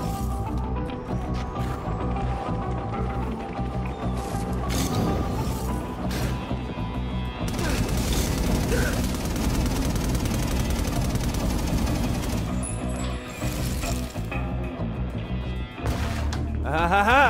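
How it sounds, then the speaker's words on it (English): Automatic turrets in the video game inFAMOUS Second Son fire in dense, rattling bursts amid crashes and explosions, a loud, busy stream of rapid gunfire and impacts running through the whole passage. "This is gonna be awesome! Automatic turrets!"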